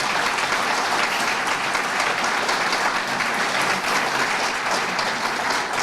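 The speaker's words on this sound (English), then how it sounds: "So please give him another round of applause." Dense, continuous applause from an audience at a community breakfast fills the room at an even, strong level and does not let up.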